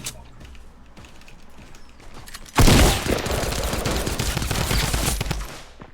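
Gunfire in the video game Fortnite, starting with faint clicks and low game ambience, then a loud sustained burst of rapid automatic fire lasting about three seconds, close and dense, with no speech over it.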